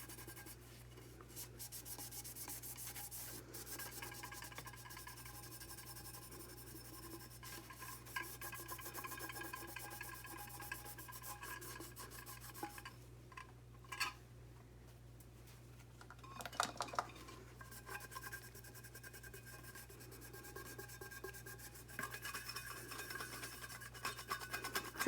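A geode gets scrubbed clean with a brush, producing soft, continuous rubbing and scraping strokes at low volume. The strokes swell and fade in irregular passes, with no voices.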